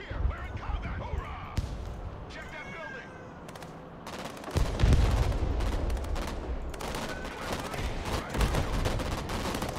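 Gunfire and artillery in the video game Broken Arrow: scattered sharp shots and bursts, then heavier booming impacts midway that build into a louder, busier battle din, with voices present.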